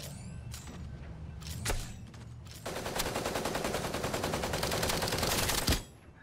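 Weapon fire in the video game Super Mecha Champions: a few scattered shots first, then a sustained rapid automatic burst of loud repeated reports lasting several seconds before cutting off, with no talk over it.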